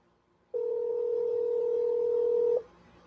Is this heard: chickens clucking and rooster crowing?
no